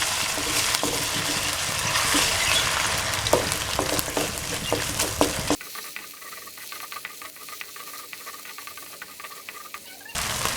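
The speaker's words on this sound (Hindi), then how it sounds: "ये 3 से 4 चम्मच हैं ये। इनको थोड़ा सा फ्राई करेंगे पहले।" Ginger, garlic and green chilli paste frying in a pan for a chicken and peas curry, a loud steady sizzle with stirring scrapes that drops to a quieter hiss halfway through, close up with no talk.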